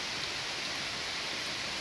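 Rain falls steadily on a rainy day in South Carolina, an even, unbroken hiss that stays constant and fairly loud, with no one talking over it.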